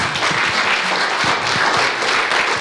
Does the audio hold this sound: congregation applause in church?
yes